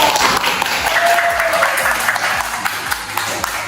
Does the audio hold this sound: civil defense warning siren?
no